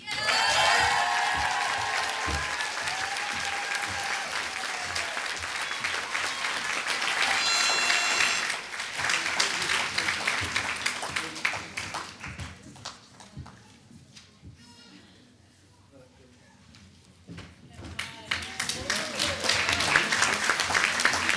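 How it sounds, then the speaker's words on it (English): A large audience at a graduation ceremony bursts into sustained, loud applause that thins out midway, then swells again with dense clapping near the end. "One more clap."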